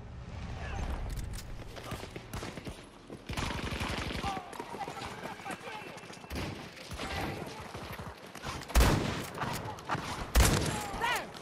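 Shotgun blasts and other gunfire from a Battlefield 2042 match, several sharp broadband bangs at irregular intervals with one loud near shot late on, over a dense bed of battle noise and game sounds, with voices talking at times.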